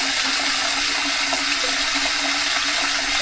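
Water pouring steadily into a container being filled for mixing a crop spray, a continuous loud rushing gush with a faint hum beneath, no voices.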